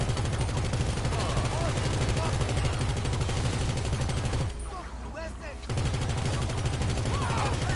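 Rapid automatic gunfire in GTA Online, a dense, loud rattling stream of shots that breaks off briefly near the middle, then resumes just as heavy.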